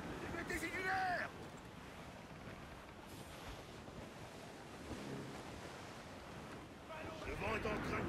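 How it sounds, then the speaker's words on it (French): Waves and wind at sea in Assassin's Creed IV Black Flag as a storm builds around a sailing ship: a continuous washing surge that swells near the end, with brief voices rising over it at the start and close. "Le vent est en train de gonfler, capitaine."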